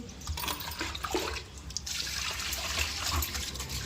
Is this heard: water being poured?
yes